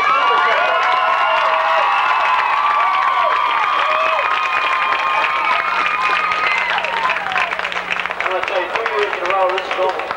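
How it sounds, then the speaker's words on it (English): Stadium crowd at a 1990 college football bowl game in Burlington, Iowa, applauding and cheering steadily, a dense roar of clapping and shouts with whistles and voices rising over it, loud and continuous throughout. "I think both these teams deserve a heck of a round of applause."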